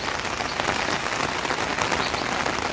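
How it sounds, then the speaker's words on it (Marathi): Steady monsoon rain pours down in a dense, even hiss of drops striking surfaces, continuous and unbroken throughout, with no voices. "मस्त पाऊस लागला"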